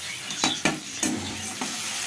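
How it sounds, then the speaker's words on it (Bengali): Ginger, garlic and green chilli paste fries with browned onion in hot oil, giving a close sizzle broken by four distinct scraping stir strokes. "পেঁয়াজটা ভাজা হয়ে গেছে, দিয়ে দিচ্ছি আদা,"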